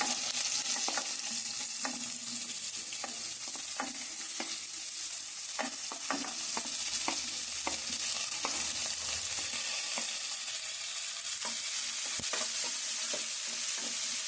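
Onion frying with raw cashews in a pan for a curry gives a steady close sizzle, broken by repeated clicks and scrapes of a spoon stirring throughout.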